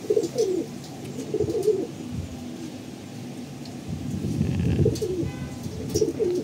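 Pigeons coo close by in soft, repeated rolling calls, with a faint steady background hum between the coos.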